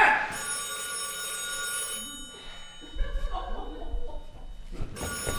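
A telephone rings with a bright, sustained electronic trill at the start and again at the end, while people talk and move about in between.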